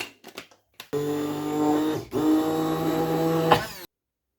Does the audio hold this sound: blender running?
yes